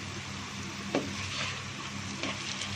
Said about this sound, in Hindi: इसको हमने 1 से 2 बार चम्मच हिलाना है